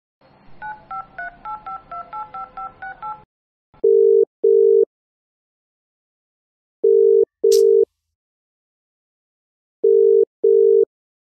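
A phone keypad beeps out a quick run of dialing tones. Then the outgoing call's ringback tone follows: paired pulses of a steady tone repeating about every three seconds, clear and close with silence between.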